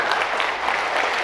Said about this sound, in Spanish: Le expresamos y le damos un caluroso y fuerte aplauso